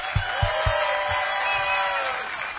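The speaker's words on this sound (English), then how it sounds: "So give him a big round of applause." A crowd at a bass fishing tournament weigh-in cheers and applauds, with a few loud low thumps over a broad, fairly faint wash of crowd noise.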